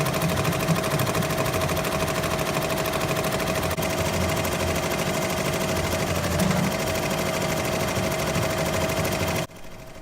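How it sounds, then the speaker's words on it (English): Tajima embroidery machine stitching an appliqué patch at about 750 stitches per minute: a fast, steady mechanical chatter, loud and close, running continuously until it stops abruptly near the end. "For this job, the machine was running at about 750 stitches per minute."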